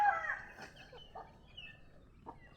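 Native chickens raised on a small farm cluck and call in a short run of soft, close bursts, with one louder call at the start and scattered clucks after it.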